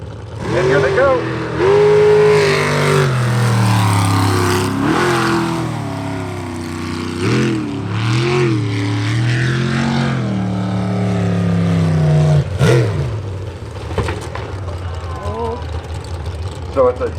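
Roaring sprint boat engines rise and fall in pitch as they rev and race past at the start of a race, loud and close, with a voice talking over the noise.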